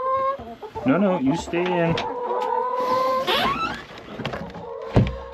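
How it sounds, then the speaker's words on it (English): Chickens in a backyard coop cluck and squawk close by. Their calls mix with a person speaking briefly to them. "Let's check on the chickens."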